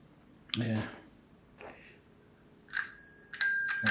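A bicycle bell rings in bright metallic bursts, once at first and then twice more near the end, with a person speaking briefly between the rings.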